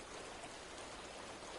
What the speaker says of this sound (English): why are the water sounds so goddamn loud?